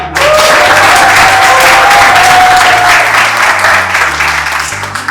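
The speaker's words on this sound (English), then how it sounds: "Please, let's clap for them." A seminar audience at a youth climate conference claps in a loud, sustained round, the dense patter staying strong before easing slightly near the end over a faint electrical hum.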